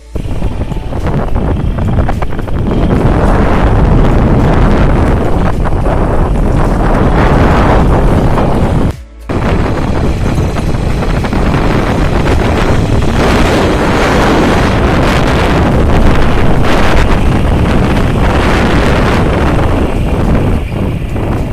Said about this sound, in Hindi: मैं बाइक राइडिंग कर रहा हूँ अभी।